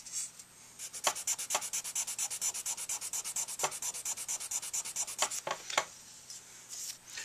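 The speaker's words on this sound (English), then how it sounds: "that's the finest sandpaper I use when I reface" Quick, steady back-and-forth strokes of fine sandpaper refacing a handmade tenor saxophone mouthpiece, close up, in an even rhythm with a few brief pauses.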